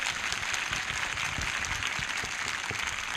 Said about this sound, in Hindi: जिनको लग रहा है जीत रखा है वो ताली बजाकर धन्यवाद कर रहे हैं।